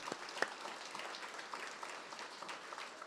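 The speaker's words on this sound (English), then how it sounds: "Once again, please, another round of applause." Quiet audience applause at a city State of the City address, a thin patter of hands clapping steadily and somewhat distant, with no speech over it.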